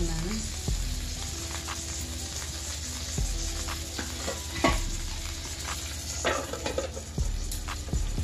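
Stuffed brinjals (gutti vankaya) frying in a spoonful of ghee give a steady close sizzle with occasional scraping and stirring knocks against the pan, a faint voice in the background.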